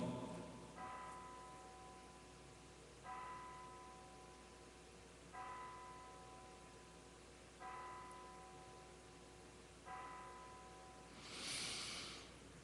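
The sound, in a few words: church bell ringing next door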